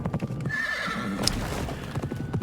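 Horse neighing and clip-clopping hooves in the Pumpkin Jack video game, a clear whinny over steady galloping beats throughout, with no talk.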